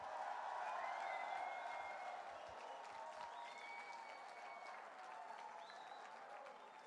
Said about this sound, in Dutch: Geef die coach een groot applaus.